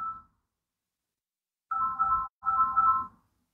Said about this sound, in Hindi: मादरत चाहता हूं फोन आ गया था